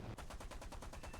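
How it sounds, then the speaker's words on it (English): Rapid bursts of gunfire from a Supermarine Spitfire F Mk 24 in a flight combat video game, a fast, even rattle of about ten shots in just over a second, close and steady. "I start firing at him there, hit him"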